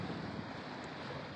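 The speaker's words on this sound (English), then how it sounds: "I walked out and sat on the bow of the boat, enjoying the sound of the waves" Wind and ocean waves on a boat's bow about 13 miles off the Florida coast, a dense, steady rush of surf and breeze buffeting the microphone up close.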